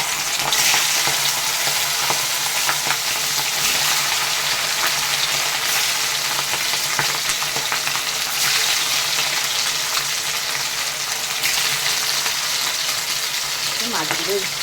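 Bhangar fish sizzles in hot oil in a pan, a loud, continuous crackling hiss with occasional spatter bursts that carries on steadily throughout.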